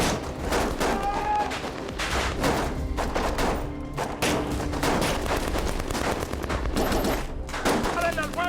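Dense, continuous gunfire from an action-film shootout between cartel gangs, with rapid automatic bursts and thuds layered over a constant loud soundtrack.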